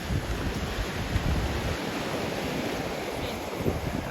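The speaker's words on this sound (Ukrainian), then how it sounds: "І ці хвилі це якраз місце, де моря сходяться." Continuous surf washes and rumbles on a wide beach in northern Denmark in November, where two seas meet, mixed with buffeting wind noise against the microphone, steady and fairly loud throughout.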